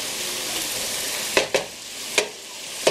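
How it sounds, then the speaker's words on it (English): Onions tumble into a pan of mushrooms frying in butter, giving a steady loud sizzle broken by several sharp stirring scrapes and clacks, with no talking. "I'm going to throw the onions in here now."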